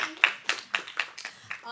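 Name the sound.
audience applause for keynote speaker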